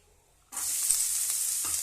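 Food hitting hot oil in a pan, with a sudden loud sizzle after half a second of quiet that then holds steady and close, no talk.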